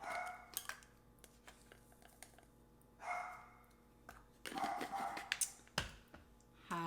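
A pet dog named Murphy barks in a home kitchen, a few sharp separate barks spread across the clip, fairly close, some standing alone and others landing over clatter from kitchen work.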